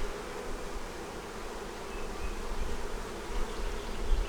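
Honey bees swarm and buzz at a hive in South Carolina, a dense, steady drone of many wings holding close and fairly loud for several seconds with no voices.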